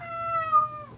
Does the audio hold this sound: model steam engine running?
no